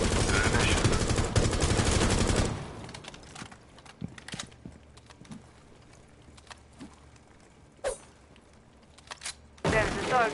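Gunfire in the Rainbow Six video game: a dense, loud burst of rapid automatic fire for the first two and a half seconds, then scattered single shots, and a final burst at the end over game ambience.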